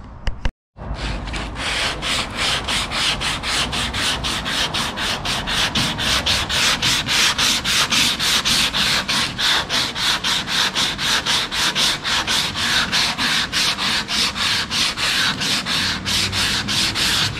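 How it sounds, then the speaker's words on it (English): Rhythmic back-and-forth scraping of a sanding block on wood during car tail pan bodywork, fast, steady strokes close up for the whole stretch. "Guy had all kinds of different sanding blocks"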